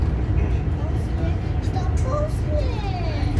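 Interior ride on a former BVG city bus running the X50 route from Bankya to Sofia, with a steady low engine rumble and road noise throughout and faint voices over it.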